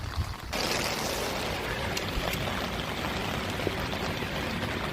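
Rainwater from a storm in Orlando rushes through a downspout drain system, a steady close hiss of flowing water that starts after a brief quieter moment and runs on evenly.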